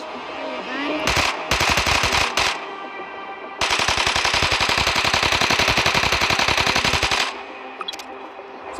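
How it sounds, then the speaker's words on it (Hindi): Robot mech guns firing in the mobile game Mech Arena: loud rapid machine-gun bursts, a few short volleys followed by a long sustained stream of evenly spaced shots lasting several seconds. "और गन शूट भी देखो"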